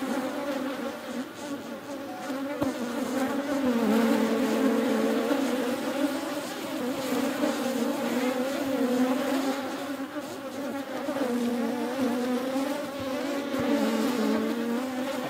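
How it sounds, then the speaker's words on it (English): Bees buzz loudly and continuously while caught in the furry windscreen of a microphone during a horizontal hive split inspection, a dense close droning swarm with shifting pitch throughout. "all those bees caught up in that furry microphone"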